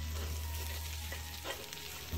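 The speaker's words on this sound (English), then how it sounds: "I'm putting the smoked turkey wings in there too. I'm gonna let them saute down a little bit in there." Smoked turkey wings sautéing in a pot of mustard greens, a steady close sizzle and frying crackle with faint stirring, no voices.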